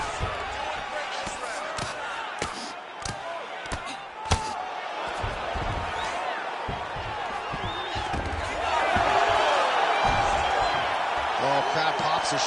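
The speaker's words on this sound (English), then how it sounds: "Crowd pops as she reverses position" Arena crowd in the UFC 5 fighting game swells into a louder roar partway through a women's ground exchange, a steady wash of noise with a commentator talking over it throughout.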